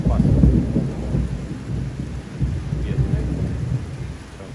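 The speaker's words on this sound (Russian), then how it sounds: "Наконец-то дождь пошел, а?" Steady rain pouring down with a low rumbling wash underneath, continuous and fairly loud, no voices.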